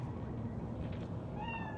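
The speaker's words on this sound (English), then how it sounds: "Fine-looking feline." A cat meows in the Cyberpunk 2077 video game, one short meow rising near the end above a steady background hum of game ambience.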